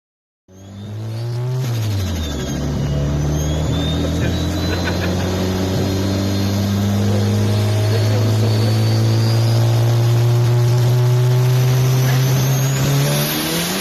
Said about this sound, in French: on va quand même faire une petite accélération ensemble